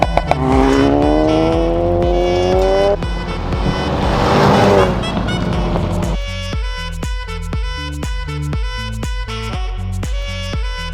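A Mercedes C63 AMG driving on a road near Summerland in the Okanagan Valley, its engine note rising steadily at first before loud rhythmic music takes over and masks the car.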